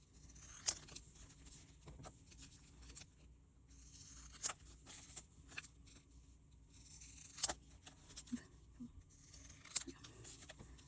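Scissors cutting out small sticky-backed paper pictures, with sparse crisp snips and rustling paper at close range, quiet between cuts and no talk.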